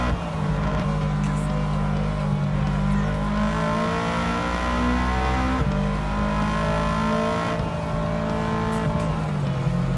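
A race car in Gran Turismo 7 during an Oceania/Asia championship event: a loud, sustained engine note climbs in pitch as the car accelerates, with steady high revving throughout.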